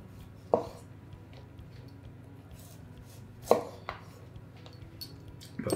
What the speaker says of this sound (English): you can use that spine and the heft at the heel of the knife to really drive through something tough like this